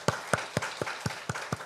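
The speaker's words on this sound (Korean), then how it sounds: "하나님께 영광의 박수 드리시겠습니다" Church congregation claps in unison during a Sunday worship service, seven even, rhythmic claps at a steady moderate tempo, fairly close and moderately loud with a faint room tail between beats.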